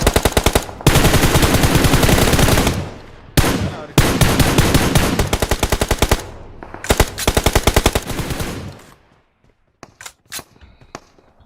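Gunfire in PUBG Mobile: long loud bursts of rapid automatic fire, broken by brief pauses, that end in a few scattered faint shots as things go quiet.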